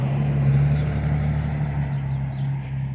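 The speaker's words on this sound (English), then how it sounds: "here comes a car. Shouldn't be too loud" A car passes along a quiet rural road near private property, a steady low engine and tyre rumble that swells early and slowly fades, heard close and fairly loud with no talk.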